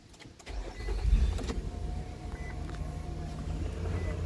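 A 2014 Infiniti QX60 with a V6 starts by push button: a short whir of cranking catches into a low, steady idle rumble heard from inside the cabin, with a faint chime in the background.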